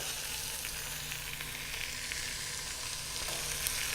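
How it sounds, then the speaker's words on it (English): A roast sears in a hot pan inside an all-in-one cooking unit, giving a steady, dense sizzle and crackle that holds evenly throughout with no talking. "It's searing up very nicely. So it's releasing from the pan, so we're going to turn it over."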